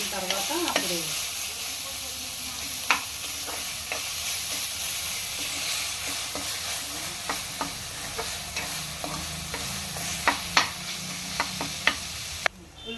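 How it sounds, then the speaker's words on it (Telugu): Onion, ginger and garlic paste sizzles steadily in a pan for a tangy mango and fish curry, with a spoon scraping and clinking against the pan in scattered sharp knocks, heard close with no talking. "పేస్ట్ బాగా వేగింది కదా"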